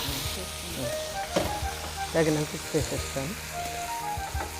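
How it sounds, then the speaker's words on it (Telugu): Chopped capsicum and tomato sizzle in a pan for a pachadi, steady frying crackle with a few clattering stirs and knocks of a utensil, under intermittent talk. "ముక్కలన్నీ బాగా వేగాక టమోటా వేసాం"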